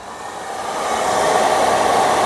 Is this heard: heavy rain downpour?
no